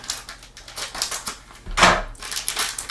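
A package is cut open with a crisp rip and crinkle of plastic, loud and close, surrounded by quick tapping and handling clicks.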